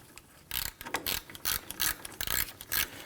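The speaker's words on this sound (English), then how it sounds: "I'm going to use my ratchet." A hand ratchet snugs down bolts during a rear wheel bearing replacement on a 2006-2010 Hummer H3, giving close, loud bursts of rapid clicking in roughly six separate strokes with short pauses between.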